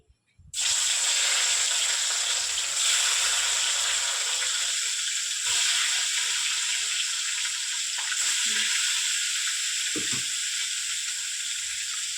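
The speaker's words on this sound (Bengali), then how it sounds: "মাছটা একখান ভাজা হোক" Fish fries in a pan as a steady hissing sizzle that starts abruptly and continues loud and close, with a few faint clatters underneath and no talking.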